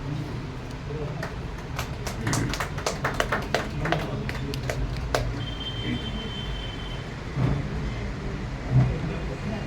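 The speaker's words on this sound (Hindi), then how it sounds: "जोरदार तालियों से स्वागत करें राकेश जी का।" Audience applause at a Delhi Hindi literary and honour ceremony welcoming a guest to the stage, a dense burst of clapping through the first half that thins into scattered claps and room noise.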